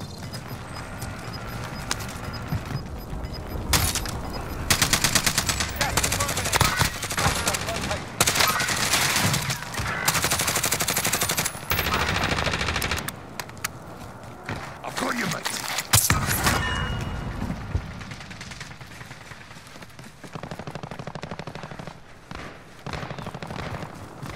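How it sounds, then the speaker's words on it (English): Gunfire in a Call of Duty: Modern Warfare match, with bursts of rapid shots and heavy firing through the middle, mixed with game sounds and voices talking over the action. "Someone's shooting at me from here. Somebody's shooting in the garage."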